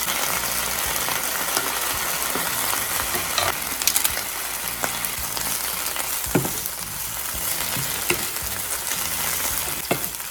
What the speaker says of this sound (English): I'm just gonna stir fry it right away